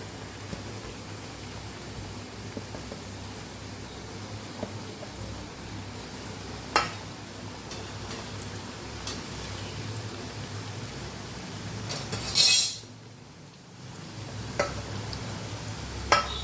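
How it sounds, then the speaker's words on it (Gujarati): Oil sizzles and crackles steadily as chakri snacks deep-fry until crisp and golden, a constant hissing texture with occasional louder pops and a brief quieter dip. "સરસ ક્રિસ્પી ગોલ્ડન થાય ત્યાં સુધી આપણે એને તળવાની છે"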